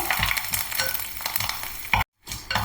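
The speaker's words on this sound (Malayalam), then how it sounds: "കടുക് പൊട്ടുന്നുണ്ട്" Dense crackling sizzle of mustard seeds spluttering in hot oil, continuous and close, broken by a brief silent gap near the end.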